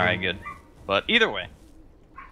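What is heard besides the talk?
dogs barking in the background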